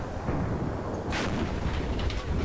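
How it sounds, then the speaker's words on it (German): A tank cannon fires in the War Thunder video game. A heavy, booming shot sits within a dense, rumbling battlefield din, with a sharp crack partway through. No voices are heard. "Ich habe jetzt einen Schuss neben mir gehört."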